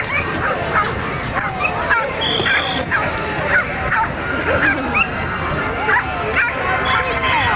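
Dogs barking and yipping with occasional whimpers during a team dog display at Dunstable Carnival, repeated loud barks over a constant crowd hubbub and babble of voices across the arena.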